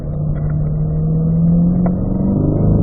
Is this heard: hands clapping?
no